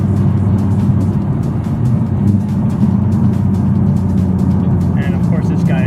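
Nissan Z car with a new aftermarket exhaust driving on an Arizona road, a steady loud low engine drone throughout with constant road noise and a brief higher whine near the end.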